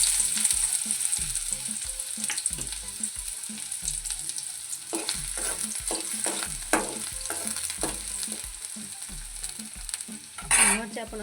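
Onions fry in hot oil with a continuous sizzle, broken by repeated scraping and stirring knocks and a louder burst of crackle near the end.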